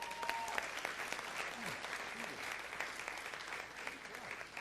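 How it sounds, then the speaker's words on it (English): Audience members at a Las Vegas city council meeting applaud a man coming to the podium, a steady patter of many hands clapping at moderate distance, with a faint voice underneath. "Give him a nice round of applause."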